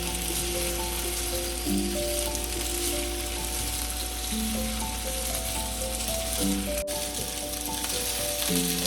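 Taro root (arbi) frying in a pan for a spiced Punjabi-style dish, giving a steady, continuous sizzle throughout, close by, with faint background tones and no talking.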